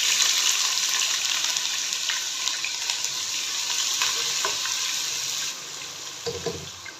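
Medium sliced onion hits hot oil for mustard-greens saag, a loud steady sizzle and crackle that lasts for several seconds and then drops off near the end, followed by a few stirring knocks.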